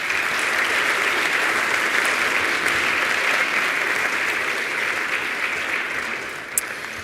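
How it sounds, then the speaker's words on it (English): At a health-technology conference, the audience gives a sustained round of applause, steady clapping from a sizable crowd that tapers off over seven seconds with no speech. "Round of applause"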